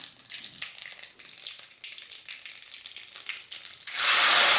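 Mustard seeds, cumin and dried red chillies crackle in hot oil as a rapid, uneven patter of small pops that gives way to a louder, steady sizzling hiss near the end.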